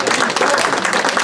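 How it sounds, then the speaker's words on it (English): Brief burst of dense group applause, many hands clapping at once with crowd noise and some talk blended in. "Big applause."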